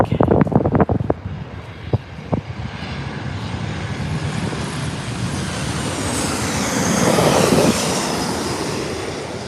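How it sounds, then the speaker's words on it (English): A WestJet Boeing 737-800 arriving at Los Angeles International Airport after a flight from Calgary: a steady, loud broadband jet roar builds and swells toward the end, with a few sharp clicks and knocks near the start. "a WestJet flight coming in from Calgary, Alberta, Canada. Just under 3-hour flight, Boeing 737-800"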